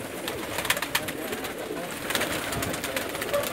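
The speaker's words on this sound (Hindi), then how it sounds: "बहुत तादाद में कबूतर हैं इनके पास" Many breeder pigeons coo softly at night, a steady low murmur of overlapping calls with faint background noise and no break.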